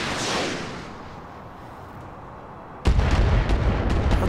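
Missile launchers fire and explode in the video game Roguepoint: a rumbling boom fades into a dull roar, then a heavy burst of rapid, close explosions and impacts hits hard and continues densely to the end.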